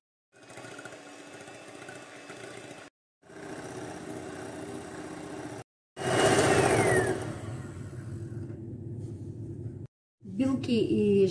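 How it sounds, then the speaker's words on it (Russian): Electric hand mixer whipping whole eggs for a sponge roll, motor whirring steadily in several long bursts that grow louder and harsher as the speed rises, with brief pauses between runs. "Взбиваю 5 минут, постепенно добавляю обороты."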